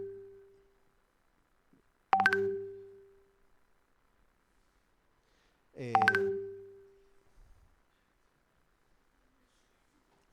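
WhatsApp notification sound, two short bright chimes a few seconds apart, clear and alone in near silence.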